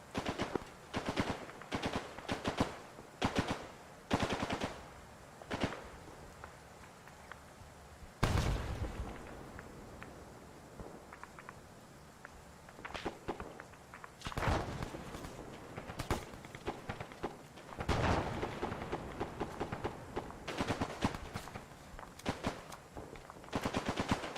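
Bursts of automatic machine gun fire in the Arma 3 combat game, sustained rattling volleys with short pauses between them, joined by heavy booms and footsteps, loud and close throughout.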